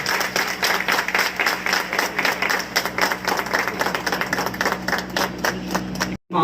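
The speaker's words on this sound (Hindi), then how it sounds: "फार्मर्स के लिए जोरदार तालियां हो जाए और ये जारी रहे जब तक हम ये प्रमाण पत्र दे रहे हैं।" Applause for farmers at a certificate ceremony, a sustained crowd of hands clapping steadily and loudly for about six seconds before cutting off abruptly.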